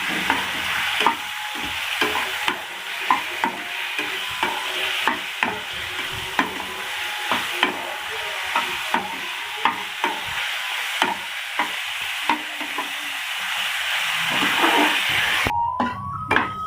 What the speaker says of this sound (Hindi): इसको थोड़ी देर अच्छी तरह भूनेंगे ताकि इसकी स्मेल ख़त्म हो जाए